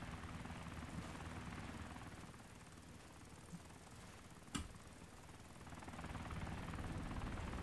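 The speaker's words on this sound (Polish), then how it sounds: "Osprejem właśnie ktoś odlatuje." Osprey tiltrotor aircraft in the video game DayZ, its steady rotor drone fading away into the distance, fairly faint, with a single sharp click partway through.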